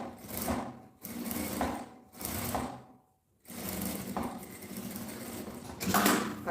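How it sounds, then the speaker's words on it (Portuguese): A Jack A5E sewing machine stitching fabric for a baguette bag, running in fast steady bursts with a brief pause, loud and close, alone without talk. "O modelo da minha máquina é Jack A5E."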